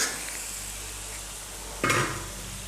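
Spoon stirs and mixes Chinese potato (koorka) stir-fry in a pan, a soft steady sizzle with a sudden louder scrape and clatter near the end as the pieces are tossed together.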